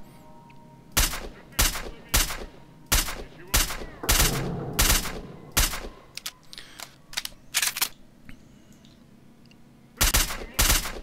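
In S.T.A.L.K.E.R. Shadow of Chernobyl, shotgun blasts boom out as a dozen loud, sharp reports at irregular intervals, some clustered, with short gaps of quieter background between them.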